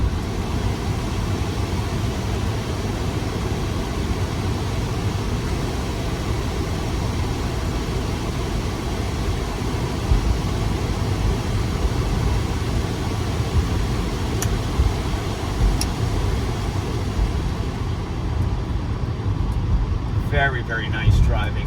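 A 1989 Mercedes-Benz 300E with 48,500 miles cruises with a steady low engine and road hum from inside the cabin, the air conditioning running and a voice talking throughout.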